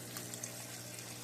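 Water drawn from a pond runs through a pipe in an aquaponics setup with valved beds, giving a steady, low, continuous rush that stays even and close throughout.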